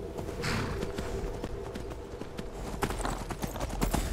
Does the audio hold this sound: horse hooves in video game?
yes